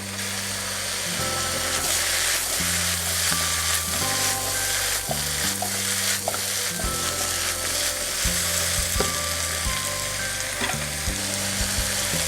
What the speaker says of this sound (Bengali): সবজিটাকে আমরা ভালোভাবে এভাবে উল্টিয়ে ভেজে নিচ্ছি যাতে সবজিটা ভালোভাবে ভাজা ভাজা হয়।